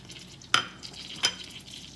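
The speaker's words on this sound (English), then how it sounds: "now my butter is melted, and I'm gonna add some garlic to this" Garlic goes into melted butter in a pan while the cook stirs, with two sharp clinks of utensil on pan over a faint, steady sizzle, close and with no talking.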